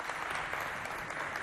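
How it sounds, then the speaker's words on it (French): An audience applauds at a French youth holiday show, a steady, dense wash of clapping that holds evenly for its short length with no voices on top. "Est-ce qu'on peut l'applaudir bien fort?"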